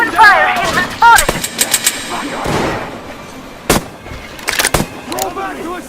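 Gunfire in the video game Metro Exodus, loud sharp shots and short bursts cracking close by amid shouted voices and other game sounds.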